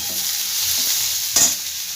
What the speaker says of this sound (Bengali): এই তেলের মধ্যে আমি এবার এই পেঁয়াজগুলো যে কুচো করে রেখেছিলাম, পেঁয়াজটা আমি সম্পূর্ণ দিয়ে দিচ্ছি